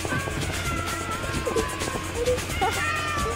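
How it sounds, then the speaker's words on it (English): Several cats meowing, scattered short mewing calls rising over a busy, noisy background, moderately loud and close, overlapping at irregular intervals. "There's cats everywhere!"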